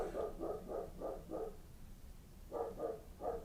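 Dogs bark repeatedly at a passer-by: a quick run of five sharp barks, a pause, then three more, fairly close and with no talking.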